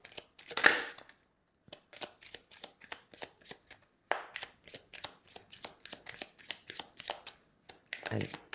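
Tarot cards being shuffled and drawn by hand, a rapid run of soft papery flicks and riffles in quick bursts, with a short pause and a louder rustle near the end, heard close and fairly quiet.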